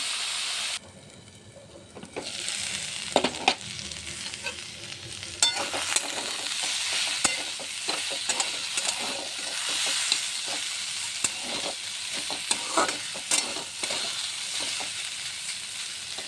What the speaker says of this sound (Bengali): ভালো করে একটু লাল করে ভেজে নেব